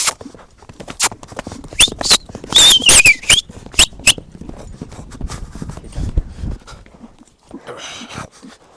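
A horse's hooves clip-clop on hard ground in a sequence of sharp, fairly close steps, with a brief squeak partway through and a quieter, scattered stretch toward the end.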